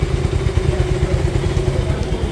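Motorcycles stand ready for a ride with engines idling, a close, steady low rumble with a rapid rhythmic pulse throughout.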